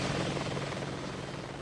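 An Apache attack helicopter of the Gulf War produces a continuous, dense whirring drone of rotor and turbine, loud and unbroken throughout.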